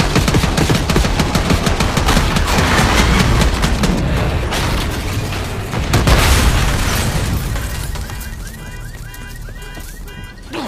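Sustained heavy gunfire and booming blasts in a Call of Duty: Black Ops 6 street ambush on a limo, loud and dense for most of the stretch, thinning into scattered shots and mechanical rattles near the end.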